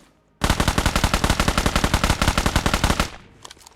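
Rapid sustained automatic gunfire from a newly added weapon in the PUBG video game on the Erangel map, a loud unbroken burst of about thirty shots lasting close to three seconds, then a short tail with no voices.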